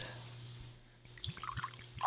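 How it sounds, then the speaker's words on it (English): Little Book whiskey glugs from the bottle into a glass, a short run of soft liquid drips and splashes up close after a brief quiet pause, with a low steady hum underneath. "And we get the first pour."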